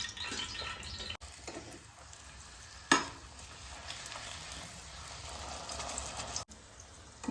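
Luchi puffing in deep hot oil give a continuous close sizzle and bubbling, broken by a few sharp clicks and clatters from the pan or utensils, with no voices.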